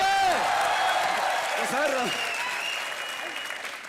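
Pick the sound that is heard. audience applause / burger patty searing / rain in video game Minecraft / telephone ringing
audience applause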